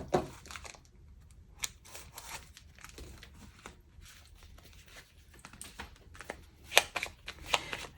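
A deck of 32 playing cards being shuffled by hand, with bursts of crisp riffling and flicking that come and go, close and fairly quiet, with a few sharper snaps near the end.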